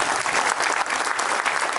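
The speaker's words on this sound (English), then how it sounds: "Let's give them a round of applause." Hotel staff receive steady, full applause from a conference audience at an agile software gathering in Singapore, with dense clapping that holds at an even level throughout.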